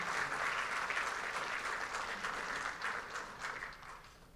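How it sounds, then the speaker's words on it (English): An audience at a community meeting claps steadily, a dense wash of hand claps that holds for several seconds and then thins and fades toward the end. "give Chairwoman Terry Gobin another round of applause"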